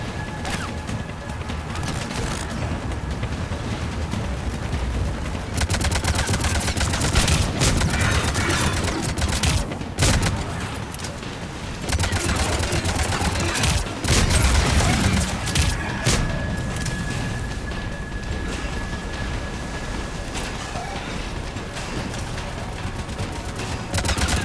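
Sustained gunfire and explosions rage through a firefight in Mass Effect 3, dense bursts and booms layered with crashes and thuds, loud and continuous with brief lulls.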